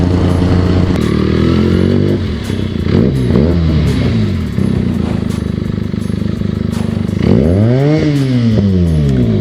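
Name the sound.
Royal Enfield Bullet motorcycle engine running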